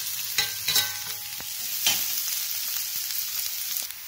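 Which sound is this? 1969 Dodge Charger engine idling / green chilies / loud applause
green chilies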